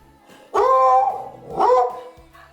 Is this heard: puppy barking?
yes